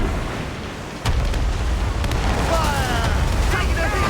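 Ship cannons fire in a naval battle in Assassin's Creed Rogue, heavy booming blasts over a constant rumbling sea-and-battle din, with a sharp report near the one-second mark and further muffled bursts beneath.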